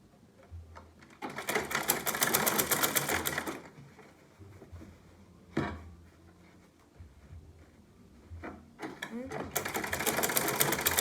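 An electric sewing machine stitching the folded hem of a buba garment, running in two long fast whirring bursts with a short clack between, close and loud, while someone talks during the pauses.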